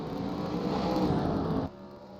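Southern Modified race cars roar past on the final lap at Martinsville, a loud sustained engine drone that drops off sharply near the end.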